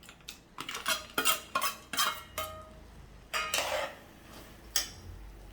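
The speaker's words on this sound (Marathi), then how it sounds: "आता थोडं गॅस मी ऑन करते आणि ड्रायफ्रूट्स घालून अगदी दोन तीन मिनटं हे परतून घेते" Dry fruits are sautéed and stirred in a pan, giving a run of sharp metallic scrapes and clinks from a spoon against the pan, irregular and close, with short pauses between strokes.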